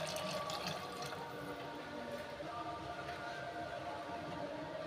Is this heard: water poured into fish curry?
yes